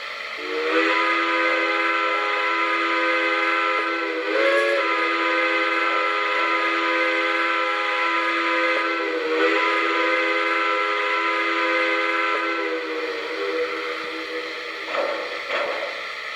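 A Lionel model steam locomotive sounds its grade-crossing whistle, a loud, close, sustained multi-tone chime that breaks into several long blasts with brief dips between them, with no talk.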